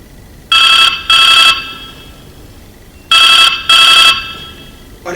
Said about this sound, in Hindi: अरे बाप रे, फिर से वही प्रोड्यूसर का फोन है